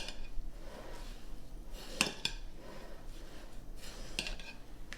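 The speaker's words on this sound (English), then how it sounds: "give it another stir" Onions for braciole stirred in a pot, with a spoon scraping and a few sharp metallic clinks against the pot over a quiet cooking background.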